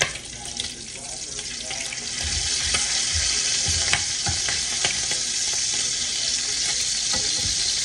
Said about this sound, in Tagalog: balik ka rin na natin yung bacon